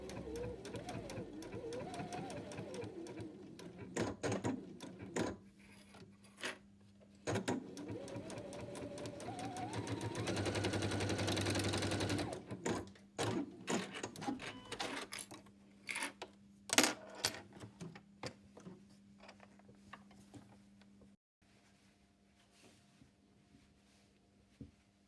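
A sewing machine stitches along the end of a fabric tie in bursts of rapid running, with short pauses and small clicks between stretches, close up and fairly quiet, and one longer continuous run in the middle.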